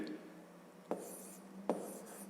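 A pen writes numbers on paper, a faint close scratching with two sharper strokes or taps about a second apart, heard quietly against a low background.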